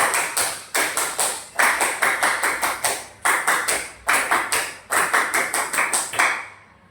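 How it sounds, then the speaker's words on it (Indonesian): A group performs the rhythmic Pramuka scout clap at an elementary school scout event, crisp, loud patterned bursts of many hands in quick clustered beats separated by brief pauses, repeated twice over. "2 kali tepuk Pramuka."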